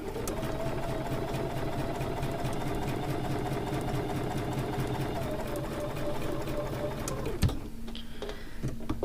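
A 790 Plus sewing machine with a quarter-inch foot and dual feed engaged stitches quilt pieces at a 2.0 stitch length: a steady, close mechanical whir runs for about seven seconds, then stops with a click.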